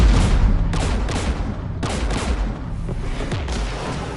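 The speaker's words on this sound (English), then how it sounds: "We're taking fire." Anti-aircraft guns firing in Mass Effect, heavy, loud bursts of gunfire repeating in a rough volley over a steady rumbling din, with no talking.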